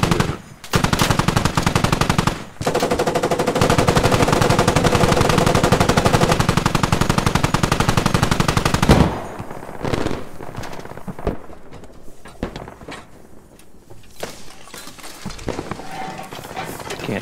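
Sustained, close machine gun fire in the Squad video game, a dense rapid stream of shots lasting several seconds, then sparser distant gunfire and battlefield noise as players talk over the radio.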